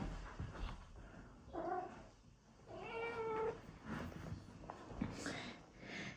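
A kitten named Goldie meows several times, short harmonic cries spaced across a few seconds over light room noise and shuffling, close to the listener.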